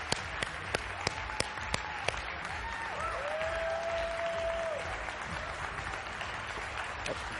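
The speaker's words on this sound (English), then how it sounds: "Give him a huge round of applause." Audience applauds as a speaker is welcomed to the stage, a fairly faint, distant wash of clapping with a few sharp individual claps near the start and a brief tonal whistle or squeal mixed in.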